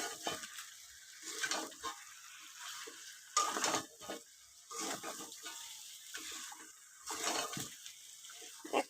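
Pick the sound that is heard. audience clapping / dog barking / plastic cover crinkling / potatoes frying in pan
potatoes frying in pan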